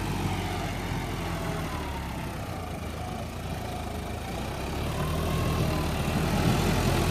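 A brand-new John Deere tractor engine runs at a steady idle, a constant low rumble and drone that is loud and unbroken throughout, with no talking.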